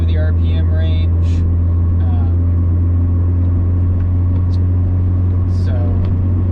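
A tuned-up Mazda FC RX7 convertible on a test drive holds a steady, low engine drone inside the car while someone talks over it.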